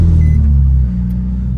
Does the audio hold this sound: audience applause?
no